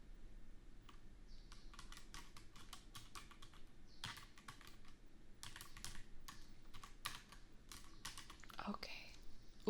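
Rapid clicking of computer keyboard keys as a password is typed, quiet and close in a hushed indoor setting, a steady run of separate keystrokes with brief pauses and soft low room noise under them.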